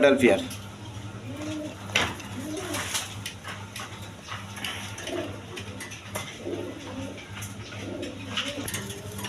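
Male pigeons at a pigeon market coo in soft repeated throaty phrases over a steady low hum, with a voice speaking nearby.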